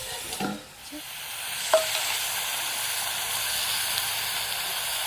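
Ginger garlic paste hits a pan of mutton with a loud, steady sizzle and a few stirring scrapes early on, close and continuous, no talking.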